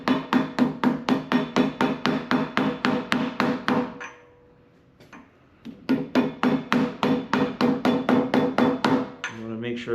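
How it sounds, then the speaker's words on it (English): Sharp metallic taps in quick, steady rhythm as a big socket drives a part into a Subaru EJ257 engine block during a short/long block build, pausing for about two seconds before the close, loud tapping resumes. "Take a big socket and I tap this in."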